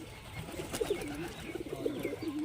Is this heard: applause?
no